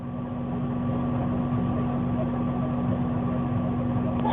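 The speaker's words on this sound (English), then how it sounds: "I'm in a tractor." Steady engine drone of a farm tractor working in the field, heard from inside the cab as a loud, even hum with a constant low tone and no break.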